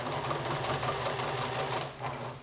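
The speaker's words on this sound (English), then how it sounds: "And now I just can go right to the sewing machine" A sewing machine runs steadily, stitching seams on a footstool panel with a continuous whirring mechanical drone, close and loud with no talking.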